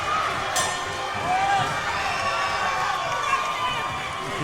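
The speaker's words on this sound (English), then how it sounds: "You can hear the Houston crowd cheering, kind of questioning, hey." A Houston crowd at a women's competition round cheers and shouts in a noisy arena, with steady crowd roar, scattered squeaks and voices throughout.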